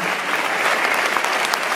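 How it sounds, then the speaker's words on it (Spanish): Theater audience applauding for the sound and lighting crew, a dense, steady wash of clapping close by, with no voices over it. "Por favor, un aplauso para ellos."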